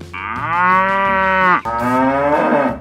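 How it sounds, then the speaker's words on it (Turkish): Cow mooing in the Who's Your Daddy video game: a loud, drawn-out moo with a brief break midway, then a second long moo, alone with no talk. "Ay ne çirkin bir inek bu."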